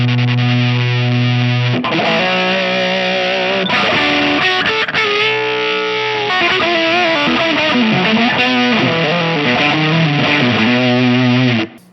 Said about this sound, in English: Couple that with distortion,